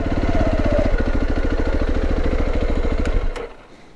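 A motorcycle engine idles close by in Durmitor with a steady, even chugging pulse, then cuts off abruptly near the end, leaving quiet.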